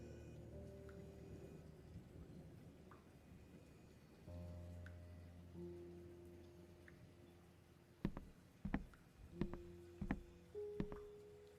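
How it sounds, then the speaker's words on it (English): Steady rain falls in the video game The Uncertain, a constant wash under droning synth tones, with a run of sharp close thunder cracks or rumbles arriving in quick succession near the end. "The rain will not stop."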